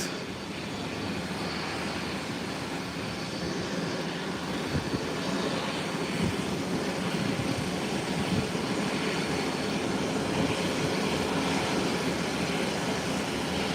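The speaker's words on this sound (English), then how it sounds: "It's making its way and is taxiing into this taxiway." An airliner taxis along an airport taxiway, producing a continuous broad jet-engine rumble and whine that holds steady at a moderate distance, with faint low thumps now and then.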